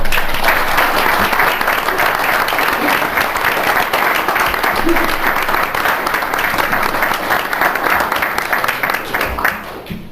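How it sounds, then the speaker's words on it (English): Audience at a Greer city council meeting keeps up loud, continuous applause for about ten seconds, dense and even, tapering off abruptly at the end. "Give them another round of applause."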